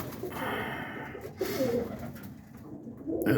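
Roller pigeons in a coop, including an Andalusian, give soft throaty coos amid low shuffling coop noise, nearby and moderately loud.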